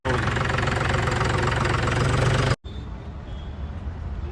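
An Arjun 605 shuttle-gear tractor engine runs with a steady, loud diesel rumble and knock for about two and a half seconds, then cuts abruptly to a quieter low hum.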